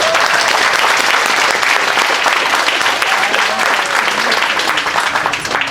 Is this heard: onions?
no